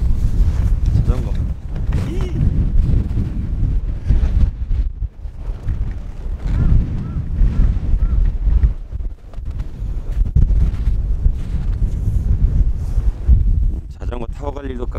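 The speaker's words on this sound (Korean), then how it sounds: "아, 근데 바람이 엄청 많이 부니까 추워요, 지금." Strong, cold wind gusts across a snowy mountain ridge during a winter bike-camping trip, roaring steadily into the microphone throughout with bursts of buffeting, while someone talks over it at times.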